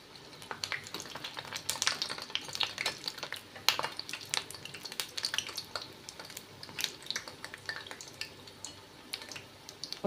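Palak vadai deep-frying in oil over a medium flame, a continuous bubbling crackle scattered with sharp pops and spits, with occasional louder bursts, close and fairly soft with no voices.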